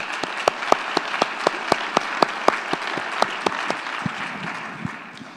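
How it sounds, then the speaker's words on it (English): A room of teachers at a presentation gives a round of applause, a fairly close rhythmic clapping with distinct regular claps standing out over a softer crowd patter, fading after about five seconds. "let's give ourselves an applause for what you're doing"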